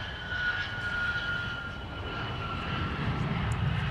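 An airliner engine roars steadily at Minneapolis–Saint Paul airport, a sustained broad rumble with a faint high whine, moderately loud and slowly swelling, with no voices.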